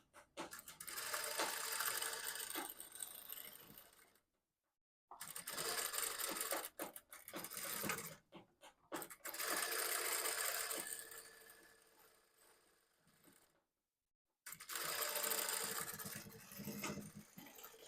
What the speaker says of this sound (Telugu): ఇది బ్లౌజ్ స్టిచ్చింగ్.